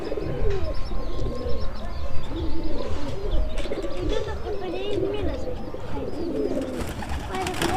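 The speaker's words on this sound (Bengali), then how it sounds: "কবুতর সব বাইরে ছেড়ে দিচ্ছি" Pigeons on a rooftop coo in a continuous, overlapping chorus, with soft chirps and some wing flutter mixed in, while people talk quietly in the background.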